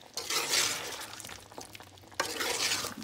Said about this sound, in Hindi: इनको हम मिक्स कर देंगे अच्छी तरह